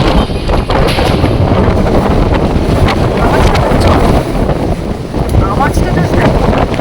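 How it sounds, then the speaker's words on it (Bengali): A loud storm wind roars in Chennai as rain begins, gusting continuously against the microphone with a rushing, blustery roar, while a voice is faintly heard beneath it. "একটা অসভ্যের মতো হাওয়া দেওয়া শুরু হয়েছে"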